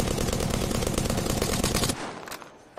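Rapid automatic gunfire from the PUBG video game rattles out in a loud, dense burst for about two seconds, then cuts off, leaving a few scattered lighter shots and noises.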